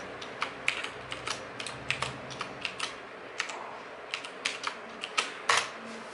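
Quick, irregular clicks of fingers typing on a computer keyboard, close and fairly quiet, with short bursts and brief pauses between keystrokes.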